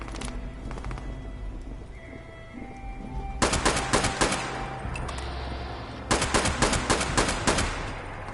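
Gunfire in the video game Fallout 76: two loud rapid bursts of automatic shots, each a dense cluster of sharp cracks lasting about a second, separated by a quieter stretch of game ambience.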